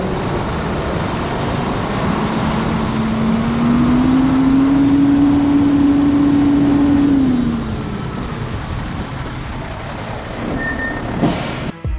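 A tow truck reverses in to collect a Toyota 4Runner, a steady reversing beep holding for several seconds over loud diesel engine rumble, with a sharp air-brake hiss near the end.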